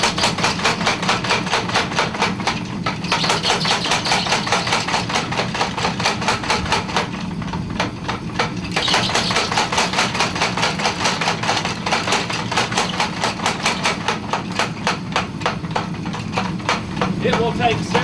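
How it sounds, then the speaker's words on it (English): Hammer blows strike a steel Bowie knife blade as its point is forged, a steady, rapid run of sharp metallic hits repeating through the whole stretch, close and loud, with short breaks between bursts. "The first thing I'm going to do is forge the point."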